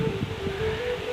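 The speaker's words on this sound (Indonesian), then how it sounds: "Wow, angin kencang sahabat." Strong wind blows steadily outdoors in a Sumatran village, a close, even rushing roar with low gusty rumble and no talk.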